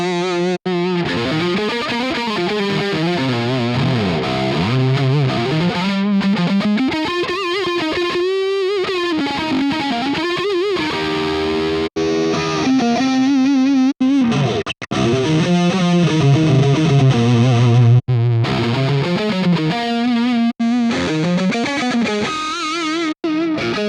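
A heavily distorted electric guitar through a Quad Cortex amp modeler plays a continuous riff with sustained, saturated chords and short gaps, loud and close with no voices.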